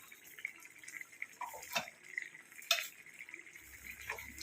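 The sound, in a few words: pouring roasted ground coconut paste into grape curry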